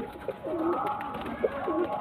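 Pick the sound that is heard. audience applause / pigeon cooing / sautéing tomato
pigeon cooing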